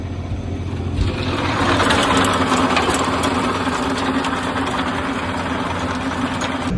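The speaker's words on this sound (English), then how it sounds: "Rotavator's doing an absolutely fantastic job" A tractor engine drones steadily with a rough, churning mechanical rumble from the rotavator behind it, continuous and fairly loud throughout.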